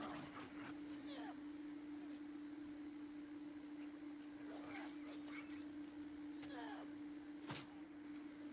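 Dogs bark and yelp in bursts in The Last of Us Part 2, faint and somewhat distant, over a steady droning hum and background game noise.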